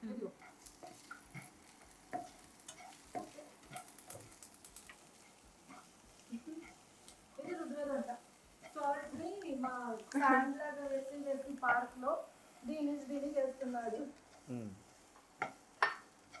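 Broccoli stems stir-frying in a pan, a soft sizzle and the scrape of a spoon stirring, mostly buried under people chatting nearby.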